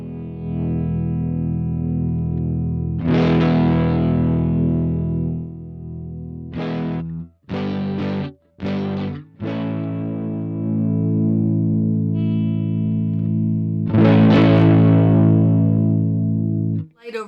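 Electric guitar played through a Diving Bells overdrive pedal set for light drive, ringing chords and notes sustaining loud and clear, separated by short gaps and quick choppy strums.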